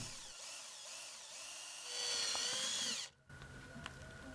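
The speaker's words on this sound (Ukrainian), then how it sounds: "Свердлимо отвори" A power drill whines in short bursts drilling holes in homemade fishing lure parts, pitch rising and falling as it bites, then runs loud and steady before stopping abruptly; close and alone.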